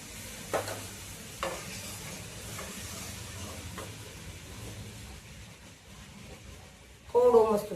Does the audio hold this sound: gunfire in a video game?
no